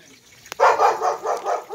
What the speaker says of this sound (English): It's a good dog.